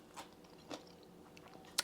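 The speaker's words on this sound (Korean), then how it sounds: "아주 아삭하죠." Crisp bites into a crunchy Korean salted cucumber pickle (oiji), a few quiet crunches spaced through the moment, ending with a sharper snap, close up and without talk.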